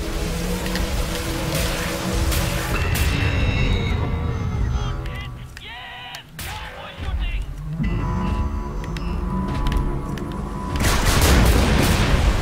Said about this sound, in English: Big explosion. I think I actually shot one of the missile things.